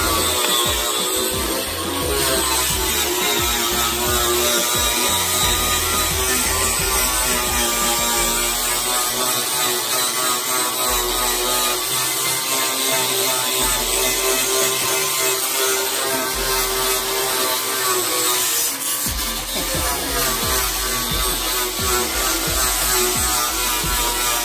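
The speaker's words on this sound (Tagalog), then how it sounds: "liha po ito na nilalagay natin sa grinder. Tawag po dyan ay flap disc." A grinder fitted with a flap disc sands putty on a Honda Click 150i scooter, giving a continuous, loud, close buzzing whine with slight shifts in pitch.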